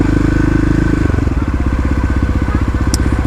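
A Kawasaki KLX351 dirt bike engine revs loudly and close by, its low, choppy burbling picking up into a faster, rhythmic brap as the throttle opens.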